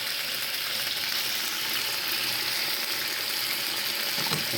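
Bacon frying in a pan, a steady, close, dense sizzle that carries on unbroken, with a faint scrape of a wooden spoon near the end.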